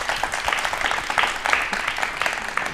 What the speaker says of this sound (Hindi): ताली अपने लिए हो जाए एक बार जोरदार।